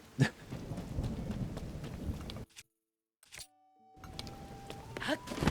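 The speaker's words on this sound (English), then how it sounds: "Thunderstorms. Oh, how I love thee." Heavy rain hisses steadily during a thunderstorm in The Legend of Zelda: Tears of the Kingdom, with a low rumble of thunder and a sudden brief silence midway before the downpour resumes.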